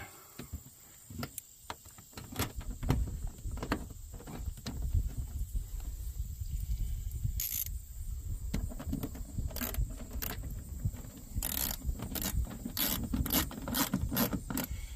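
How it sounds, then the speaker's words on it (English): Screws are driven by hand into a plastic panel with a metal clip during a WeatherTech install, heard as close, quiet ratcheting clicks and scraping taps in an irregular rhythm. "Alright, and you put a screw in it. Put the other screw in it."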